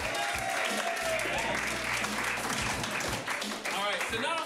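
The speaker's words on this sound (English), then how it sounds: "So give the whole cast a round of applause." A live audience at an improv comedy show applauds the whole cast, steady dense clapping filling the room while a host's voice carries over it.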